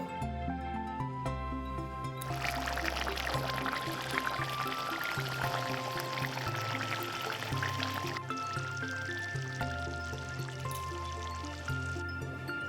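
Ground garam masala paste mixed with water is poured into a simmering vetki fish curry, making a wet, splashy stream for several seconds, then fading back under steady background music.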